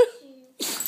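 One quick, sharp sneeze bursts out after a brief hum-like tone, close and short.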